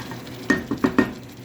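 A spoon stirs ground tomato into a simmering beef saluna pot with bay leaf, four quick scraping clinks in a row, close and clear, with no talk.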